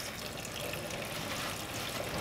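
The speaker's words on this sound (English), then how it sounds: "get a little bit of water going on" Tap water running steadily into a kitchen sink while fish are being prepared, a faint, even hiss of flowing water throughout with no talk.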